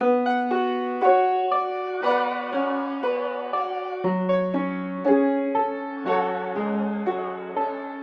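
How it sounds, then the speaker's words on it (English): Chopped guitar sample layered with piano in a trap beat, a steady sequence of sustained chord changes with soft note attacks, full and close, playing on its own. "And then I layer them back together with the piano. So now so far it sounds like this."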